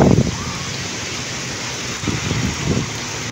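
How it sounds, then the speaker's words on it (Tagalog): Heavy rain pours steadily during a rural trip, a dense continuous wash of noise with slight swells near the end, and brief muffled voices rise under it. "lakas ng ulan mga bossing"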